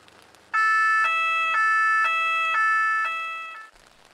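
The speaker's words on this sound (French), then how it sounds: "Au loin, j'entends le bruit d'une sirène" A two-tone emergency siren alternates in a regular hi-lo pattern for about three seconds, fairly clear rather than far off, then cuts out abruptly.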